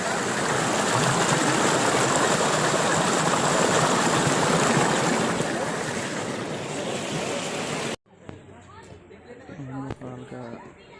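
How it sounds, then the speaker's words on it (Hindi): Fast-flowing stream water on the way to a mountain temple rushes in a loud, steady broadband roar close by, then cuts away to quieter ambience with faint talk and clatter. "पानी की आवाज़ आप लोग देख सकते हैं, पानी की तेजी से बह रहा है।"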